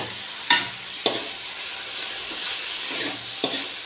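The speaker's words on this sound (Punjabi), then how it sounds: "ਇੱਕ ਸਾਈਡ ਆਪਣਾ ਤੜਕਾ ਬਣ ਰਿਹਾ" Onions and garlic frying for a tadka make a steady, close oily sizzle and hiss, broken by a few sharp spoon taps against the pan.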